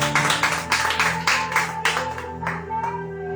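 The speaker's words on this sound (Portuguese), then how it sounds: "Bate palmas para Jesus." A church congregation claps their hands in a brisk, steady rhythm during an Apostolic worship service, the claps sharp and close over sustained background music.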